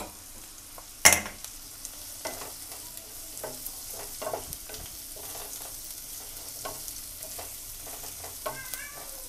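Onion and capsicum stir-fried for chicken manchurian, a steady low sizzle with repeated scraping stir strokes and one sharp clatter near the start, no talking.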